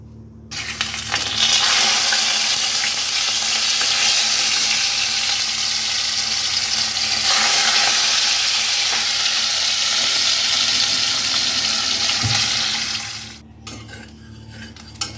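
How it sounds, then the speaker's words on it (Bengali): Rohu fish pieces fry in hot oil with a loud, continuous, close sizzle lasting about thirteen seconds, joined by a faint utensil clink, before the sizzling suddenly drops away. "আমার তেল গরম হয়ে গেছে, এরপর আমি মাছগুলো ভেজে নেব।"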